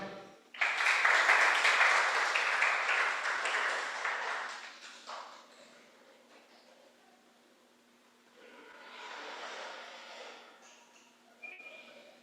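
Church congregation applauding during a Spanish-language sermon: a burst of loud clapping that swells, then fades over several seconds, followed by a softer second wave of clapping, with a faint electronic ping near the end.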